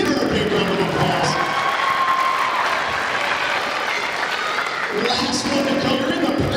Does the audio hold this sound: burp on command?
no